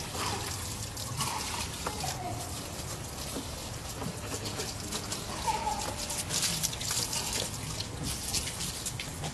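A gentle spray from a garden watering rose, shaped like a shower head, rinses a jet ski engine, giving a steady soft hiss of splashing and trickling water with brief louder spatters.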